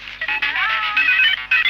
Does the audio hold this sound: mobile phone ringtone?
yes